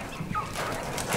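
A short, close bird call from a pen of newly bought quail, a brief chirping note under light background noise.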